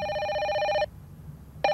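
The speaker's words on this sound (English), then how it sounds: "Let me answer the phone." Telephone ringing in the horror game The Microwave Paradox: a loud electronic ring with bright tonal harmonics sounds for almost a second, stops for a pause, then starts again briefly, with no talking.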